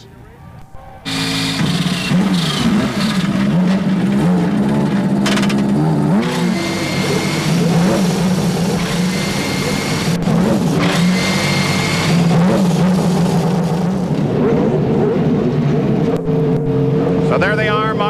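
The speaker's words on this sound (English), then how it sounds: "we are ready for all 28 IndyCars to accept that command to start their engines" A field of 28 IndyCar engines fire up and rev on the starting grid in Detroit at a 1994 CART race, a dense, loud, continuous roar with surging revs that holds for most of the stretch while an announcer talks over it.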